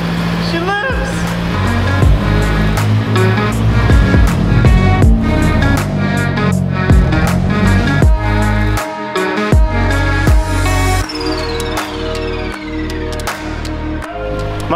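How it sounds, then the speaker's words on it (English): A revived 240 car engine runs steadily close by, a rough, rumbling idle with some revving changes and mechanical clatter, while people talk over it. "how good it feels to have the 240 running again"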